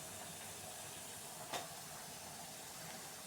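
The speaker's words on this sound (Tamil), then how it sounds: "பால் நல்லா சூடாகிட்டு இருக்கு." Milk heats in a pan on the stove for semiya payasam, a steady faint hiss of simmering throughout with one brief soft tick midway and no voices.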